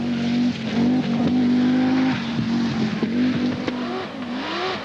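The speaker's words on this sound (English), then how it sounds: "Lassi Lampi, the Finnish privateer, is driving a quattro loaned from the factory." A 1983 Audi quattro rally car, a factory-loaned car driven by a Finnish privateer, runs a stage of the Finlandia Rally (1000 Lakes) with a steady loud engine drone, shifting pitch as it accelerates and lifts, with brief tire and gravel noise.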